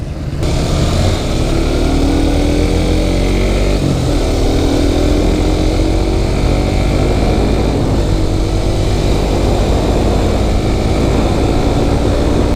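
A Suzuki GSX-S150 naked 150cc motorcycle during riding, with its engine drone loud and steady throughout and a rising pitch as it accelerates through the gears, no talk.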